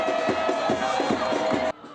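A home crowd cheering at a Phoenix Rising soccer match, a dense roar of many voices with rhythmic chanting pulses that cuts off abruptly near the end.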